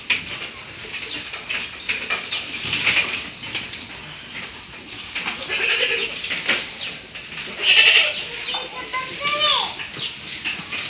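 Goats in a village livestock shed give several short, nasal bleats spread across the clip. Children talk and play nearby throughout.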